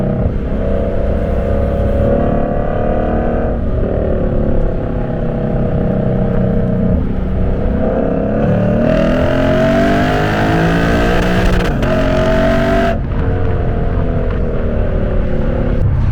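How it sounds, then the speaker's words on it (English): Loud Lexus RC F exhaust under hard driving, with rising engine revs and sharp blips and crackles through brutal downshifts, the note dropping and climbing again through a sustained, close, continuous roar. "Brutal downshifts."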